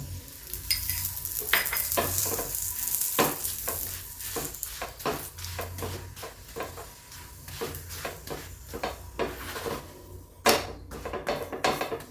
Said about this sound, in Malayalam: തിരിച്ച് മറിച്ചിട്ട് വേവിച്ചെടുക്കട്ടോ അതിന് മുകളിൽ ഇങ്ങനെ വെളിച്ചെണ്ണ ബട്ടറോ എന്തെങ്കിലും ഒഴിച്ചെടുക്കട്ടോ